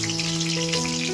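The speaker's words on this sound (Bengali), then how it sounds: "তেলে পেঁয়াজটা আমরা ছেড়ে দিচ্ছি" Onions sliced for biryani's fried onion topping slide into well-heated oil, giving a steady, close, even sizzle with a faint crackle over a low background hum, no voices.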